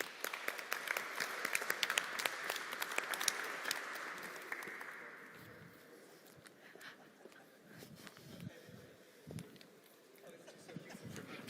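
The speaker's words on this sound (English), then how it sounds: "So please, can we give Patrick a huge round of applause?" An audience applauds Patrick at a FANUC UK open event on automation and work, with moderate clapping at first that fades into scattered claps, footsteps and background murmur.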